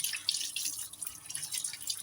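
Potatoes rubbed one by one under a running kitchen tap: a steady hiss of flowing water with small splashes and drips, close and moderately loud.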